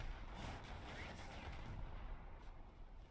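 Distant naval gunfire from an enemy ship in War Thunder, a steady wash of booming shots and rumbling blasts running throughout without clear breaks.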